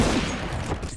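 Dense, rapid gunfire from the game CS:GO crackles continuously, a sustained burst of shots layered with low rumbling booms, loud and close throughout.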